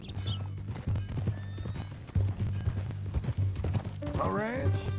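Horse hooves clip-clop in a steady, close rhythm under men's conversation, and a horse whinnies loudly near the end.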